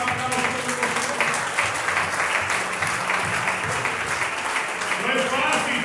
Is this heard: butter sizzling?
no